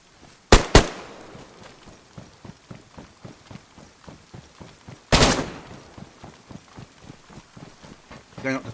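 Gunfire in the DayZ video game: a sharp double burst of shots early, then another loud burst midway, over a steady run of rhythmic thudding footsteps.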